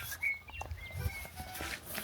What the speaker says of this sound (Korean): 새소리 엄청 들리고.